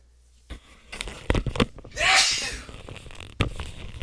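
A person indoors at an office chair lets out a single loud, breathy sneeze, preceded and followed by scattered rustling, tapping and handling noises close by.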